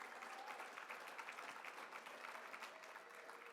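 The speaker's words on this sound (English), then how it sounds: "Let's give them a round of applause" Sustained, fairly distant clapping fills a hall as an audience at a climate and clean energy talk applauds, a dense uniform patter with no voices breaking through.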